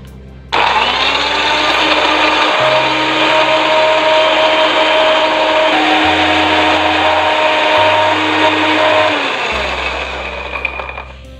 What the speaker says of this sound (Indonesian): Lalu kita blender bumbu sampai halus.